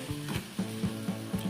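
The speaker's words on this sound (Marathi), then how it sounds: "हे जे केसराचं दूध आहे मी यामध्ये टाकून घेतलं, असं मिक्स करून घ्यायचं आहे" A spoon stirs saffron milk into semolina in a pan, a soft wet sizzle with regular scraping strokes, roughly one every quarter second, heard close and fairly quiet.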